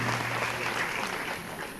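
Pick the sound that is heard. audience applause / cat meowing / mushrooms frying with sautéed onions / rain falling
audience applause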